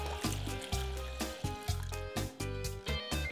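Half a cup of cold water is poured into a saucepan holding star anise and anise-flavoured aperitif, giving a close, bubbly gurgling stream in short pulses with no talking.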